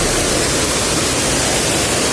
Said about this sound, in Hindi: झरने के पास आ चुके हैं